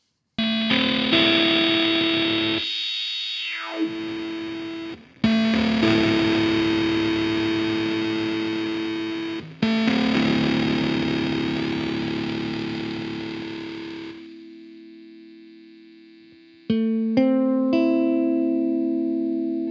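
Electric guitar played through an EHX Mainframe bit crusher pedal with blend fully up, giving all-processed, harsh digital-distorted chords and notes in several loud sustained phrases, then brief choppy glitchy bursts near the end, with no talking.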